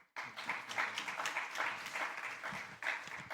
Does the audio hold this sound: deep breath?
no